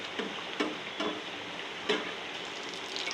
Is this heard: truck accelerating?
no